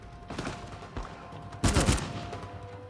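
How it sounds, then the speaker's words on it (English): Gunfire in Uncharted 4: A Thief's End, a few scattered distant shots followed by one louder, closer burst, moderately quiet against low background ambience. "Who's shooting?"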